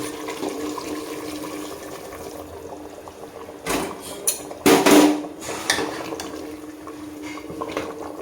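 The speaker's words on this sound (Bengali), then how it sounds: "এই গরম জলটা এবার দিয়ে দেবো।" Hot water is poured into a pan of chicken, a short gushing splash and hiss in the middle, set among clinks of utensils and pot handling in a quiet kitchen.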